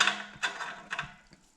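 A ratchet tightens the exhaust nuts on a Yamaha MT-09 motorcycle, giving a few short, close mechanical clicking bursts spaced over a second and a half, fading toward the end.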